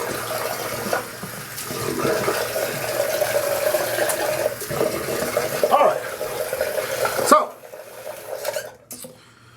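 A tap runs water to wet a shaving brush, a steady close stream with small squeaks, then cuts off abruptly near the end, leaving a few faint handling noises.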